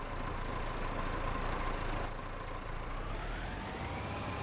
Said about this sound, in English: I like this little tractor. It's working pretty good.